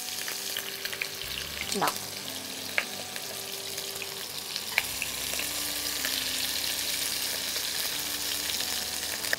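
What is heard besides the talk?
potatoes and eggplant frying in a pan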